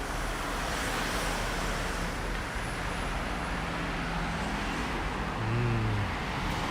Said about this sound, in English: So amazing how quiet these cars are these days. You can only hear the sound of the tires now.